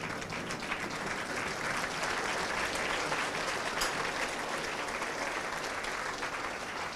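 Audience at a college freshers' day event applauding a chairman after being asked to stand, a dense, steady wash of many hands clapping that holds evenly throughout without any voices.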